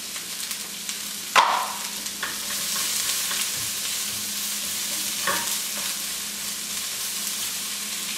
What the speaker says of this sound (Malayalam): ഇതിലേക്ക് അരിഞ്ഞു വെച്ചിരിക്കുന്ന സവാള ചേർക്കാം.